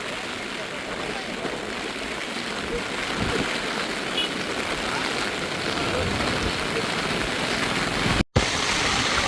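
A constant, powerful roar of water rushing through opened spillway gates at Iranamadu reservoir fills the clip, broad and unbroken, with a brief dropout near the end.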